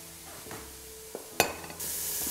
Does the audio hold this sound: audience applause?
no